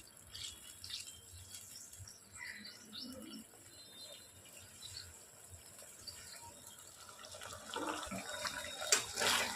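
Chilli paneer sauce simmers in a pan with a faint, soft bubbling and watery rattle that grows a little louder toward the end.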